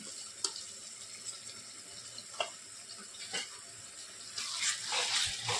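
Ginger, garlic, coriander, clove and cinnamon masala paste sizzles in hot oil for an Andhra fish curry, a steady close fry with a few sharp spoon clicks and a louder hiss near the end.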